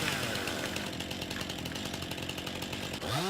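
A chainsaw in the farming video game Farming Simulator 19 runs steadily with a loud, buzzing engine drone that holds constant throughout, then briefly falls and changes near the end.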